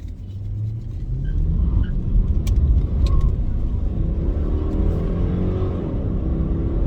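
A car accelerates on a dirt and sandy road with its tires spinning, making a steady, loud rumbling engine roar that builds and holds throughout, with a faint jingle of keys near the start.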